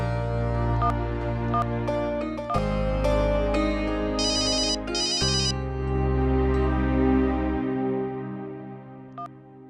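A phone ringtone plays for an incoming call, a loud melodic electronic tune with bright repeated chime notes and shifting tones, running continuously with no talk.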